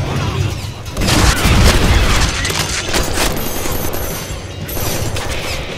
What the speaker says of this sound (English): These exploding ones are really starting to get annoying.